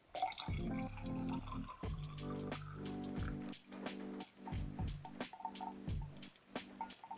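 Freshly boiled water poured from the pot of a Sterno Inferno ultralight camping stove into a glass, giving a close, steady splashing and gurgling pour with a few drips and clinks, with no talking.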